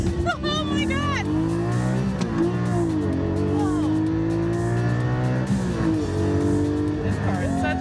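A Porsche 6-cylinder 385 hp engine accelerates hard close by, its pitch climbing and dropping through repeated gear pulls, with a brief tire squeal and voices talking over it.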